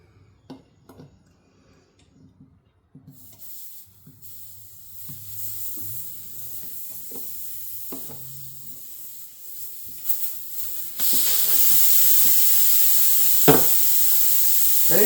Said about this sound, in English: puncture it until we start hearing the noise of the air coming out